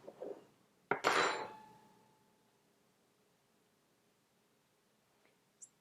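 Drunken spaghetti served into a bowl: a sharp clatter and clink of utensil against dishware near the start, then a ringing decay into quiet, and a faint tap at the end, no talk.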